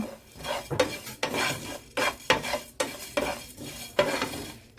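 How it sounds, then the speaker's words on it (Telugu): Coriander seeds and cumin dry-roasting in a pan, a rhythmic series of rasping scrapes and rattling stirs against the metal with a faint sizzle beneath, repeated about a dozen times. "ఇప్పుడు దీంట్లోనే జీలకర్ర కూడా వేసి వేయించుకుందామండి"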